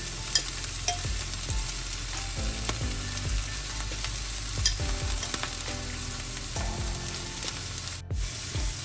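Dried anchovies and sliced onion frying in a pan, a dense, steady sizzle heard up close with repeated scraping stir strokes and occasional clinks throughout.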